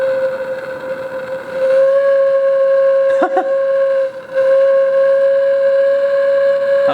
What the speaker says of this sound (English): How about that? I made a fire whistle.